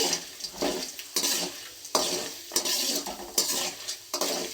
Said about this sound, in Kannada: ಕಡಲೆ ಬೀಜ ಹಾಕಿದ್ರೆ ಇದು ಗೋಲ್ಡ್ ಕಲರ್ ಬರೋ ತನಕ ಚೆನ್ನಾಗಿ ಫ್ರೈ ಮಾಡ್ಕೋಬೇಕು